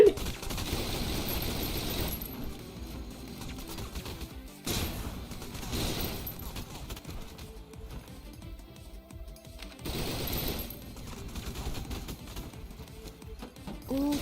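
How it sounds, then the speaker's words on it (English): Bursts of gunfire in the shooter game Snowbreak: Containment Zone, coming in several separated rapid volleys with quieter gaps between them, set against a steady game soundscape. "I think I'm supposed to shoot this a few times before I go down."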